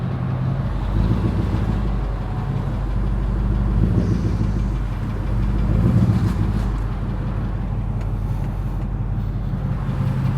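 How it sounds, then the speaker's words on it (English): Jeep WJ on 35-inch tires, its engine revving under load while the rear tire spins: a continuous heavy rumbling drone with swelling surges, heard alone without talk. "Well, the rear tire's starting to spin."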